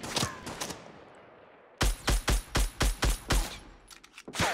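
SCAR assault rifle firing in Fortnite Battle Royale solo mode: a couple of shots, a short quiet gap, then a rapid, evenly spaced run of about seven loud cracks, with more shots trailing at the end.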